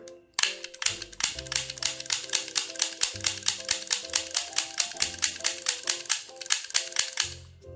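Rapid, evenly spaced snaps of a metal magnum-style toy cap gun firing, about four shots a second in a long run, with faint metallic ringing between shots.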